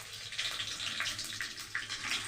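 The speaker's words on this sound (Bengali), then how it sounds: "জল ছিল আমার কড়াতে, ছপ করছে।" Water spatters and sizzles in a hot wok where dried chillies are frying, making a steady, close, hissing crackle with small pops throughout.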